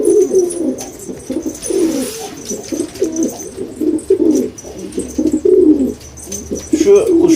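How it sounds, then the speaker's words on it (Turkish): Black Nakş pigeon feeding its chick, with soft repeated cooing and gurgling calls close by, broken into short bursts over faint background noise. "Kara nakşımız yavruya bakıyor, yem veriyor."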